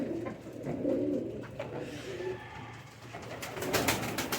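Pigeons coo in a loft where fancy breeds such as golden pigeons are kept, their soft repeated calls running steadily through the clip with brief rustling and other bird sounds mixed in.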